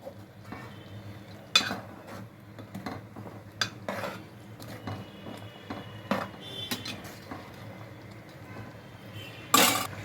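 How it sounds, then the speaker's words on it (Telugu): Chicken curry with grated coconut and chopped coriander stirred in a pot, a spoon scraping and clinking against the metal in irregular bursts, with one louder clatter near the end. "కొబ్బరి కొత్తిమీర వేసే కదా మొత్తం ఒకసారి కలిగి తిప్పుకోవాలి"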